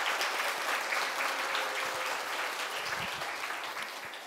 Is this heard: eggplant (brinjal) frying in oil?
no